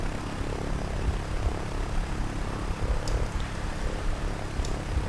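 A Cessna 152 two-seater light aircraft sits with its engine running, giving a steady, fairly loud propeller drone and low rumble that holds throughout with no talk.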